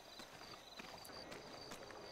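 Cow hooves running in a video game roleplay, rendered as a quick string of light clip-clop hoofbeats at moderate distance, with a faint tone and ambient noise behind them.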